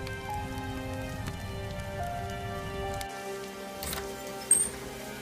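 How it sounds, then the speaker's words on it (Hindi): Heavy rain falls at night in an animated cartoon, a steady fine patter with a low rumble that drops out partway through, ending with a brief knock-like burst. "इतनी तेज बारिश में इतनी रात को कौन दरवाजा बजा रहा है?"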